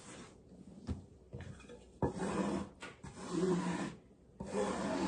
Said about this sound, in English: Scrape all that off so they won't stick when you roll them out.